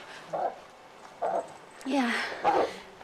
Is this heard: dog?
yes